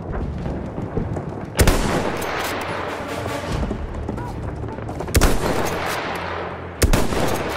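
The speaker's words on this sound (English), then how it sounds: "Enemy machine gun!" Battlefield 1 firefight: a dense wash of rumbling gunfire and distant artillery continues throughout, punctuated by three sharp, loud nearby blasts, with a faint voice mixed in.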